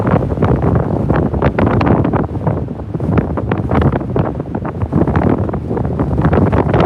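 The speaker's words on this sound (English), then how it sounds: "Oh yeah, it's really windy here now." Strong gusting wind from an October nor'easter at Revere Beach buffets the microphone in heavy, continuous rumbling bursts, with a faint wash of surf behind it.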